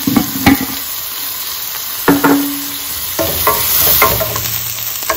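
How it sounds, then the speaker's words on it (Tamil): Sliced onions and green chillies sizzle in hot oil in a pan for chicken mandi, with a steady fry hiss broken by a few scraping stirs of a spoon, close and clear with no talk. "இப்போ வந்து இதே ஆயிலில் எடுத்து வச்சுருக்கேன் வெங்காயமும் பச்சை மிளகாவும் நான் போட்டுக்கிறேன்."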